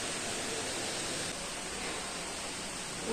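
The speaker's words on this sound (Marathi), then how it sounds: "पावसाचा जोर चांगलाच वाढला आता." Heavy rain pours down in a dense, steady hiss with no pauses, close and fairly loud, and no voices come through.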